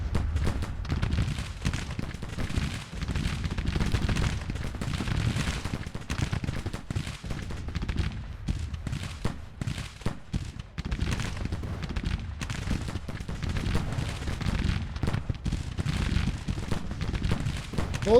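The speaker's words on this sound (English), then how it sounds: "Both sides just exchanging volley after volley of fire." Rolling musket volleys crackle and thunder in a Grand Tactician battle between brigades at breastworks, dense overlapping shots sustained throughout at a steady loud level, like massed fire from both lines.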